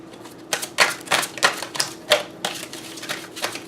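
Tarot cards are shuffled close by, a series of crisp snapping and slapping bursts at an irregular pace with short pauses between them.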